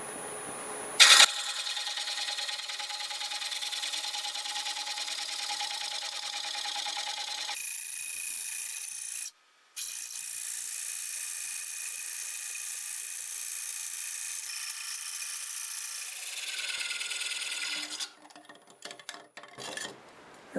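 A wood lathe turning at about 600 RPM while a sharp tool cuts a bowl made from a board, giving a steady, close, loud scraping hiss with a whine. It breaks off briefly midway and then continues until it tapers away at the end.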